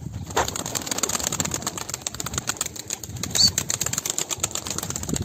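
Young grey pigeons taking off from a loft and flying, a burst of wing flapping near the start followed by continuous fluttering and some faint cooing in the background.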